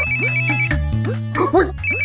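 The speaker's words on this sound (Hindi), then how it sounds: "तेरा फोन बज रहा है।" A mobile phone ringtone plays a repeating electronic melody, loud and close, with a brief voice cutting in partway through.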